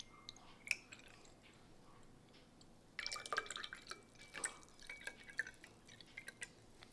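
Coca-Cola poured into a small glass, a soft drip followed after a quiet start by close, crackling fizz and popping bubbles that keep sputtering at low volume.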